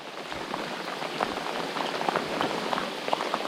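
Heavy rain falls steadily on a fishing outing, a dense continuous patter with scattered louder drops striking nearby surfaces, no voices.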